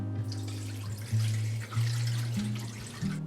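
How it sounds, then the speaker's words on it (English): Water pouring from a tap into a Galanz multi-cooker pot fitted with a steaming rack, a steady running stream with shifting tone as the level changes, a few brief interruptions and pitch jumps, close and fairly quiet. "then we're going to add some water"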